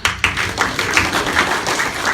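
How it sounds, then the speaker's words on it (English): An audience at an anime convention panel claps, with individual hand claps distinct in a brisk, uneven patter that stays fairly close and continuous. "Clap."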